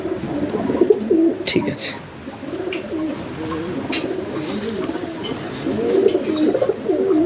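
Pigeons coo in soft, repeated throaty bursts close by, the calls overlapping throughout, with occasional wing flutters and brief talk from a man in a pigeon sale setting.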